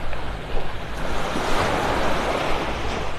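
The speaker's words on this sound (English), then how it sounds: "I need to hear the sounds of the little waves lapping on the shore" Small waves lap steadily at a beach shore on Vanderbilt Beach in North Naples, Florida, a continuous soft wash of surf with light wind noise and no talking.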